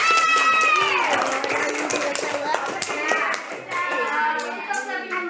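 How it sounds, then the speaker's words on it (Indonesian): Students in a classroom clap their hands together, sharp claps scattered through lively overlapping children's voices that call out and chatter loudly over the whole stretch. "Tepuk tangan dulu untuk kita semua."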